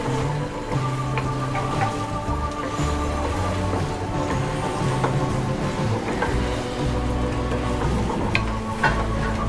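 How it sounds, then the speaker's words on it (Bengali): Beef is stirred together with bottle gourd in a pan, with a steady close sizzle of frying and the scrape of a spoon moving through the pan, with no talk. "এবার আমি লাউয়ের সাথে মাংসটা ভালোভাবে নেড়ে মিশিয়ে নিব"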